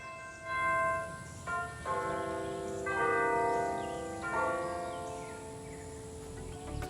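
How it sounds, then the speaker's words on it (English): Tower bells at Stephen Foster Folk Culture Center State Park chime "Way Down Upon the Suwannee River" slowly, each clear ringing note sustained and overlapping as the tune carries through the open air. "So kind of cool to hear it from the tower bells way down upon the Suwannee River."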